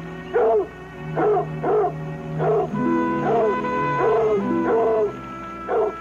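A fierce dog barks in short bursts of two or three, loud and close, with snarling, whining tones between barks and a steady low hum underneath.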